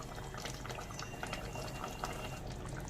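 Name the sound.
pomfret fish curry with brinjal bori simmering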